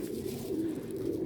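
Pigeons on a rooftop loft in Sialkot coo in a steady, low rumbling drone that continues without pause, close by and moderately loud, with no voices over it.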